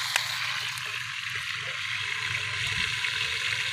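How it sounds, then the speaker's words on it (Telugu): Coriander and chicken being washed in water in a village kitchen, with steady sloshing and running water throughout, continuous and fairly close, without speech. "కొత్తిమీర చికెన్ పై నుంచి తీసి కడగాలి"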